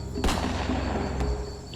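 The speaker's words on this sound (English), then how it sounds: "Another shot echoed on the plains." Gunshot booming across the open savannah plains, one heavy report followed by a fainter second crack, both trailing into a long rumbling echo, with no voices.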